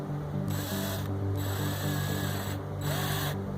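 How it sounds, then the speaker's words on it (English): A power drill with a 1/4 inch bit bores slowly into the center of a hole in a metal bar, its motor whine steady and close with brief rhythmic dips as the bit bites. "So now I've got my drill. It's a 1/4 inch bit."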